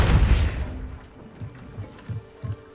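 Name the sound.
Depulso spell blast in video game Hogwarts Legacy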